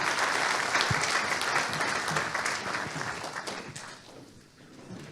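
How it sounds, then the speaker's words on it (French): An audience applauds round-table panelists at an annual meeting, a steady burst of many hands clapping that fades gradually toward the end. "Vous pouvez les applaudir."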